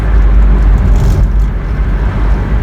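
A 1985 Toyota pickup truck, just treated with intake cleaner and prone to surging, drives along a road with a loud, steady engine and road rumble from inside the cab, holding constant throughout.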